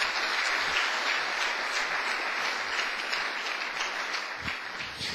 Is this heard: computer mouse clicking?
no